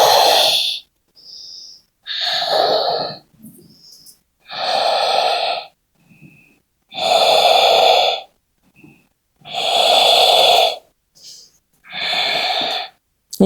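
A yoga practitioner breathes deeply during a slow vinyasa flow, with loud, close, drawn-out inhales and exhales in a steady rhythm, each separated by short silences.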